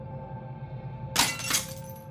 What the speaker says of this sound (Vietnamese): thuận tay ném cái mảnh vỡ của bình bông vô cái kính to trước mặt. Kính vỡ toang, mảnh vỡ văng tứ tung.